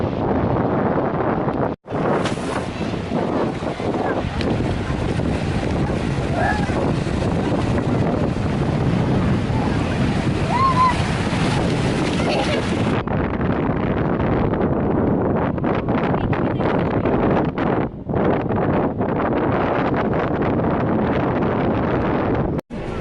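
Steady wind and surf roar on Inchydoney Beach in Ireland, with heavy wind buffeting on the microphone throughout and no speech.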